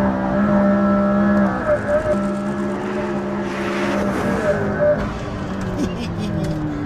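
A McLaren P1 hybrid hypercar drives hard on a test track, its engine holding a steady loud drone with pitch shifts as it changes speed, and a voice talks over it for much of the stretch.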